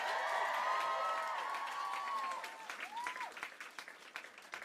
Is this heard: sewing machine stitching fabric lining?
no